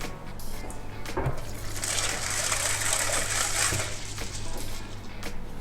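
Water pours from a container onto dried fava beans and chickpeas in a bowl, a steady hissing gush swelling in the middle and tapering off, close and alone.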